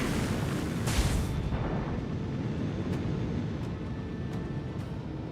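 Torpedo explosions in the space combat game Rogue Trader, a deep, continuous rumbling boom with a brighter burst early on and a few faint crackles as it rolls on and slowly fades.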